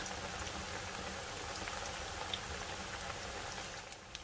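Hot oil crackling and spattering in a pan as tacos dorados fry until golden and crisp, a steady dense hiss with a few sharper pops standing out near the end.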